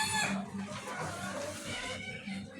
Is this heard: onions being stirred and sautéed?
no